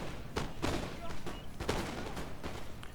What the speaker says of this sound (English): I ordered this guy to shoot that Switchfoot from the side